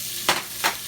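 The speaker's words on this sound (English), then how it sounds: "And I'm also gonna saute the basil" Basil leaves sautéed in hot oil for a tomato sauce, two short sizzling bursts rising sharply and fading, close by against a quiet kitchen background.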